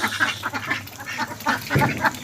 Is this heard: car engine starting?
no